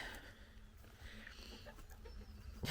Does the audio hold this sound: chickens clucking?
yes